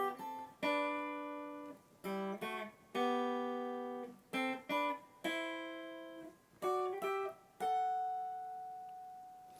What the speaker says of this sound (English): If we use our double stops, our inverted double stops in thirds, it sounds like this.